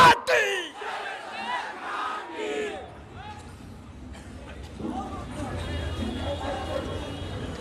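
A crowd at a Charmonai procession in Barisal roars back its takbir response in loud, overlapping shouts, opening with a sharp burst of voices and then settling into a sustained, rumbling crowd chant.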